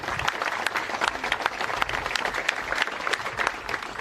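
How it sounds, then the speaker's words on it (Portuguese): Sustained applause from a gathering at the São Januário chapel of Vasco da Gama, greeting the arrival of former club president Eurico Miranda's body at his wake; dense, steady clapping throughout with a faint murmur of the crowd. "Na chegada ao clube, foi recebido com aplausos."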